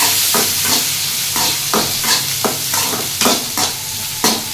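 Onions, beans, carrots and tomatoes sautéing in a pan, a loud continuous sizzle punctuated by repeated rhythmic scrapes of stirring, close up with no talking.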